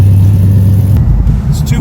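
A car engine runs steadily on a test ride, a loud low rumble with a strong steady hum throughout and slight shifts in pitch, heard close up with no talking.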